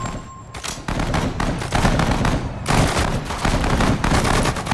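Machine gun fire in the Pacific War game Sudden Strike 4 at the Battle of Wake Island, dense rapid bursts of shots crackling continuously, loud and near, with a brief lull before heavier firing resumes.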